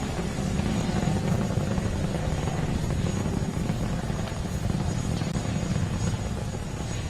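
Falcon 9's nine Merlin engines roar during the BulgariaSat 1 launch as a dense, continuous, crackling rumble heard from a distance, steady throughout.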